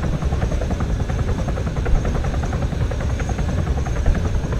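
A helicopter in the video game Arma 3 roars close and loud, its rotor beating in a fast, steady, dense chop over a deep engine rumble, with no voices.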